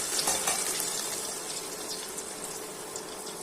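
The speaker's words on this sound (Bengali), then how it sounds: "হালকা একটু পানি দিয়ে দিচ্ছি যাতে মশলাটা না পুড়ে।" Water splashes into a pan of frying chopped onion and spices, a steady broadband hiss and sizzle that holds evenly throughout without pause.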